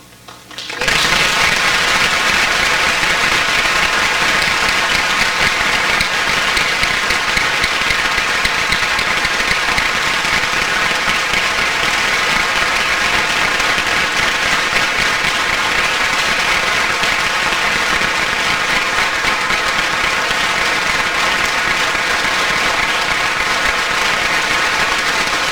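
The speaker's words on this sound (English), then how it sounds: "I think we need to give a special round of applause for all of the cast members in tonight's performance" Audience at a Jackson County bicentennial stage performance applauding the cast, a loud, dense and sustained wash of clapping that swells quickly and holds steady throughout without fading.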